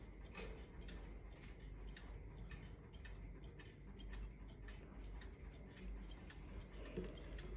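An antique French wall clock with a mirrored glass face and wooden case ticks steadily and close by, a regular even tick-tock running through the whole stretch with no talking.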